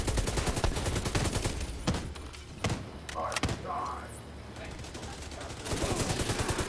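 Several weapons fire together in The Division 2, with dense rapid automatic bursts and heavy thuds. The gunfire comes in loud clusters, eases to a sparser middle stretch, then builds again into sustained shooting at the end.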